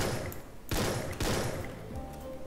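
Gunfire in the Free Fire battle royale game: sharp bursts of shots over a dense, noisy background, two loud volleys close together, with no speech.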